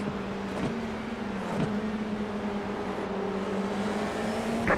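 A simulated FIA F4 race car engine in iRacing drones steadily at a near-constant pitch, with brief dips at gear changes, loud and close with no talk over it.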